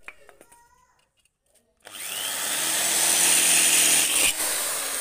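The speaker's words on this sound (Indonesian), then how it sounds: "lubangi dari kaleng ini menggunakan bor. Kita bor seperti ini untuk kalengnya." After a few light taps and near silence, a power drill whines up loudly and grinds steadily through a thin metal tin can, making a two-stroke exhaust, for several seconds.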